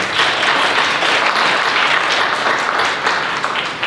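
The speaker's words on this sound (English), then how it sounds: "Big round of applause." A large audience gives loud, sustained applause after a talk on humanoid robots, a thick continuous clapping roar that holds steady and only eases slightly at the very end.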